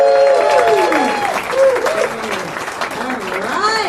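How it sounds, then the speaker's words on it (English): Applause from a comedy show crowd at a Lions club event in Windsor Locks, Connecticut, the clapping a thin, continuous wash beneath a voice speaking over the room. "Keep it going for Jimmy."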